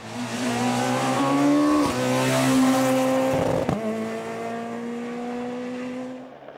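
A Peugeot 207 Super 2000 rally car on a tarmac stage roars past up close, its engine note rising through the gears with brief lifts between shifts, then fading as it pulls away.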